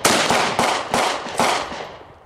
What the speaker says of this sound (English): It's my first time shooting 30-30.